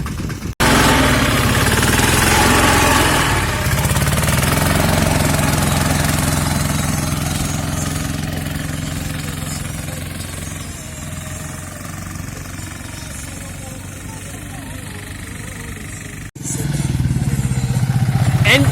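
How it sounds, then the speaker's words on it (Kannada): An ATV quad bike engine at Kapu Beach runs loud and close as a continuous rough mid-pitched drone, easing slightly in level, then cuts out briefly before revving back up near the end. "ರಡ್ಡು ವೆರೈಟಿದ ATV ಬೈಕ್ಸ್ ಉಂಡು."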